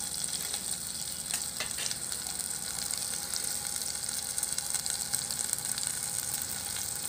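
Small sambar onions sautéing in a pan over a high flame, giving a steady, close hiss of frying that runs without a break, with faint stirring clicks beneath it.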